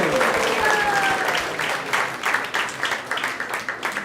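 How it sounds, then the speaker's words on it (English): A temple audience at a Sunday feast breaks into applause, a dense wash of many hands clapping that starts strong and gradually thins out, with faint voices mixed in. "So let's give a big round of applause to everyone who has joined us here."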